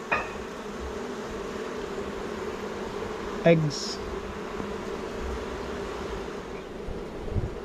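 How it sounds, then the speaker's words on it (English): Honey bees buzzing in a steady low hum around an open Flow Hive during an inspection, with a brief rustle and a few words spoken nearby. "we've got plenty of bees on this side"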